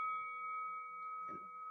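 A single bell strike rings out with a steady, sustained metallic tone that hangs through the whole moment, with a brief dull thump partway through and no talking.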